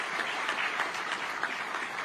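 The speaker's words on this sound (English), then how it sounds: "We need to clap for that as well." A business event audience claps steadily for about two seconds, a dense, even burst of many hands at moderate loudness with no voices on top.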